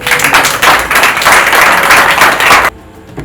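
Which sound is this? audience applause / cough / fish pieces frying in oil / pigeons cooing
audience applause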